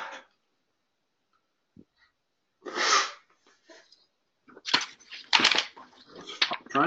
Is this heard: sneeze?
yes